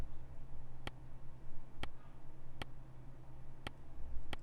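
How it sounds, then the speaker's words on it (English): Synthesized kick drum from Serum with a noise loop layered on top for a sharp click; five short, bright ticks at uneven spacing stand out faintly over a soft, steady low rumble. "As you can hear, it's adding that click to the top of the kick,"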